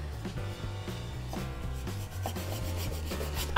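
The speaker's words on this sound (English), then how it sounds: "I'm going to trim a tiny bit of the base off here," A knife saws a thin slice off the base of a giant watermelon, making close, rhythmic rasping strokes in a quick repeated back-and-forth pattern with no voices.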